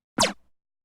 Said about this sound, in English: laser slinky